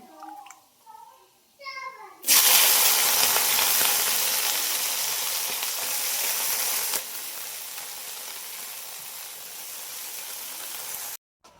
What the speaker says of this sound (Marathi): फोडणी चांगली बसली